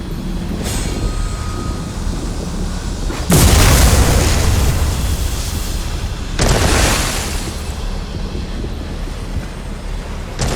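Loom being smashed apart with the Abolisher in Elder Scrolls Online: two heavy, booming crashes a few seconds apart, each with a roaring, rumbling tail over a low continuous game ambience, with no talking.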